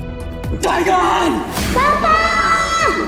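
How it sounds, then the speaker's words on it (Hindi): A man bellows and yells loudly in a dramatic Hindi audio story scene, the shout rising sharply and sustained for a few seconds against a busy produced background. "अभिनव चिल्लाया और अचानक से उसकी नींद खुल गई।"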